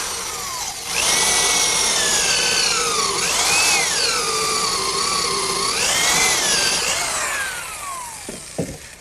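A 1.25 inch counterbore bit drills into picnic table wood to seat a 4-inch lag bolt head, a loud, close, continuous whine that rises and dips as the load changes, then winds down at the end.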